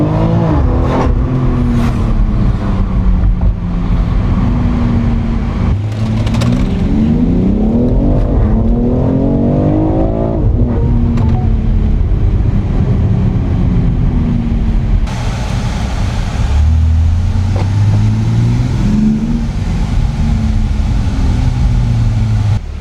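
A Porsche at a school car show, its engine revving up and down in loud rising and falling sweeps over a constant rumble of idling motors, with another rev building near the end.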